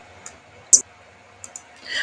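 A computer mouse clicks on a scissors snapshot tool, giving one sharp, close click in a quiet room, with a few fainter ticks around it.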